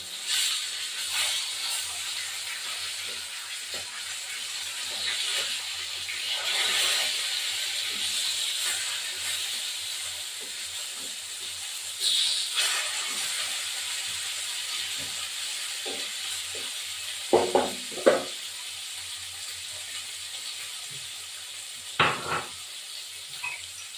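Rui fish frying in a pan for a cauliflower fish curry, a steady sizzle and hiss with occasional stirring and a few sharper clatters near the end, no talking.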